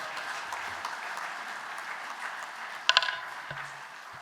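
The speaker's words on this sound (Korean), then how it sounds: "목사님을 박수로 환영하시겠습니다" A church congregation applauds to welcome the pastor at a men's mission service, moderate steady clapping from many people, with a couple of sharp metallic clinks and a low thump near the end.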